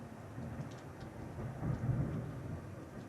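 Rain and thunder in a turn-based SNES role-playing game, a steady hiss of rainfall with a low thunder rumble that swells midway and then fades back, with no voices.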